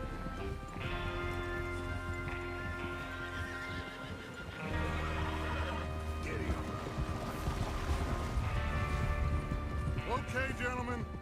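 Horses whinny and hooves clop in the Red Dead Redemption 2 video game, the sounds layered over a busy game soundscape with speech, steady and fairly loud throughout.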